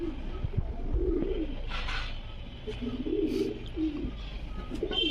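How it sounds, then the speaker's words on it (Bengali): White female Andhra pigeons coo in low, rolling, repeated phrases close by, with soft rustling and faint background noise between the calls. "সাদা ফিমেল অন্ধ্রা পায়রা"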